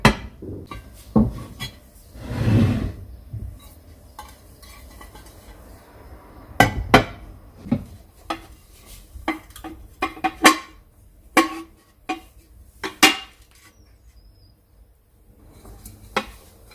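A chilled Creole coconut flan comes out of its mold onto a plate, bringing scattered sharp clinks and knocks of dish and mold against each other, plus a soft sliding thud, set apart by quiet pauses.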